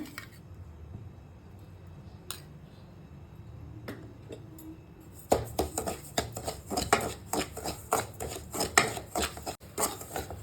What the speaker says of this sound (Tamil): நெய் ஒரு 2 ஸ்பூன் ஊற்றி நல்லா வறுத்துக்கலாங்க.